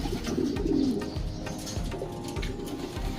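Racing pigeons cooing close by in a loft, with steady low, throaty coos repeating over a busy background of birds and faint rustling.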